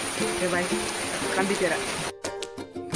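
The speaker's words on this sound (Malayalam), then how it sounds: "നല്ലോണം പെയ്യുന്നുണ്ട് മഴ" Heavy rain pours on a car travelling along the Mahe bypass on a trip to Kottiyoor, a loud steady wash of hiss and patter that cuts off abruptly partway through.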